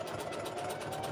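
A sewing machine hums steadily while stitching a folded fabric strip of a jelly roll rug. The whir is brief, continuous and moderately quiet, with no voices.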